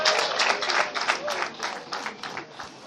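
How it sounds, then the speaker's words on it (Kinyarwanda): An audience claps in rhythmic, pulsing bursts during a traditional Rwandan amahamba poetry performance. The applause is steady and fairly loud throughout, with faint voices mixed in. "amashyi mwababyeyi mwe"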